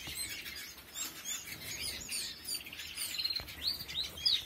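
Pet birds, including young green birds and a pied one, chirp and tweet in a continuous busy chatter with high bright calls throughout, moderately close and steady, with no voices.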